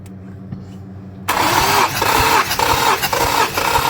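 An Infiniti M37 engine cranks loudly during a compression test, a rough, pulsing starter whir that begins abruptly after a quiet idle hum and continues steadily to the end.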